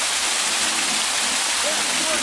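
Waterfall in Holland Park: a loud, continuous broadband rush of falling water fills the whole stretch, close and steady with no breaks.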